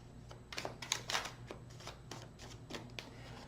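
Tarot cards being shuffled by hand in a series of soft riffling bursts and flutters, close and fairly quiet, with faint room noise between them.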